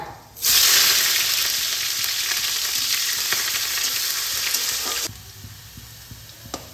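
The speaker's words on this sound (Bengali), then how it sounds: "তেল গরম হয়ে গেছে, আমি তেলে দিচ্ছি 1/2 চামচ কালো জিরে, এখানে কুচনো পেঁয়াজ দিচ্ছি একটা," Chopped onion and black cumin seeds going into hot oil in a pan, an abrupt loud sizzle that holds as a steady frying hiss for several seconds and then drops back to near quiet.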